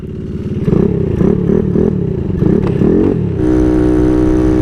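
A 300cc Honda Grom motorcycle runs at speed, its engine loud and close with a rising, revving drone, settling into a steady higher-pitched hum near the end.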